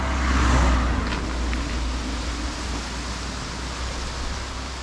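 A car passes on a road beside a bridge, a broad steady rush of tyre and engine noise that swells early and then holds as a continuous roar, with no voices.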